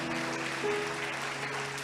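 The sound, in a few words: audience applause in church service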